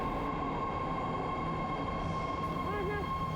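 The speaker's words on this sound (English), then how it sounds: "Here's the train." Steady low rumble of a San Francisco Bay Area train rolling into a station, with a faint wheel squeal near the end and a constant electrical hum.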